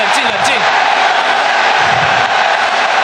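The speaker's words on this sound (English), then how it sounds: "This crowd is lighting up and ready for AHQ to take a victory." A large esports crowd at the League of Legends World Championship 2014 roars and cheers in a loud, continuous wall of noise, with brief whoops rising above it.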